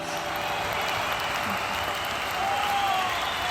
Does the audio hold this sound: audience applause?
yes